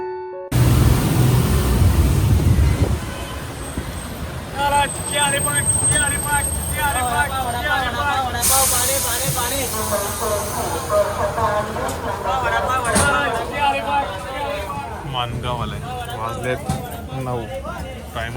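A Maharashtra state transport bus pulls out of the Mangaon depot toward a Konkan village, its engine and road rumble droning steadily throughout with passenger chatter and voices over it.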